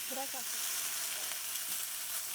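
Food sizzles in a pan at a campsite, a steady close hiss that runs without a break, with a brief voice at the start.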